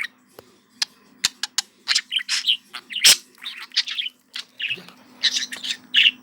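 A pet bird chirps and tweets busily up close, a quick run of bright, sharp calls and short trills with hardly a pause.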